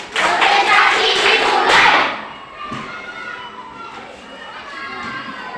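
A school class performs a rhythmic concentration clap, a burst of many hands clapping together in a classroom that stops abruptly after about two seconds, followed by quieter room noise.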